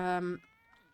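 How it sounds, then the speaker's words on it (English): A single cat meows in The Sims 4, one clear, tonal, close meow that fades quickly into near silence. "And where are those meowing cats?"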